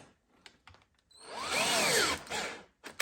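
A handheld power tool tightens a bolt on a Harley-Davidson Lowrider ST license plate mount, giving one short whirring burst that rises and falls in pitch, preceded by faint clicks and followed by a brief knock.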